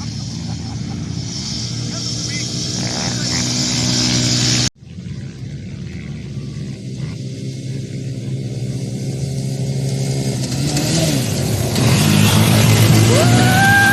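Small Raptor 110 CVT mini bikes with buzzy little engines rev and run nearby, a steady droning whine that cuts out abruptly and then builds again, with people talking over it.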